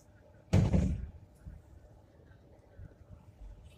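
Light rail tram doors closing on a Hong Kong Light Rail Route 615 car, one sharp thud of the doors shutting, near and fairly loud, followed by quiet cabin rumble and low background noise.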